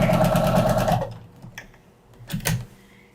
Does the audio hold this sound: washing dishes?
no